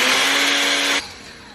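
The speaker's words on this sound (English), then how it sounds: "now I'm gonna put it in the blender." An electric blender whirs loudly at high speed as it grinds roasted chettinad spices, a steady dense roar that cuts off abruptly after about a second.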